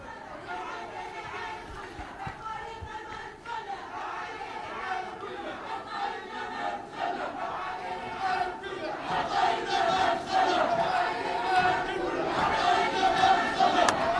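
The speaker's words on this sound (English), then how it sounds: "Crowds chanting" A large Libyan crowd chants in support of Gaddafi, a dense mass of voices in rhythmic shouting that swells louder toward the end, with chatter mixed in.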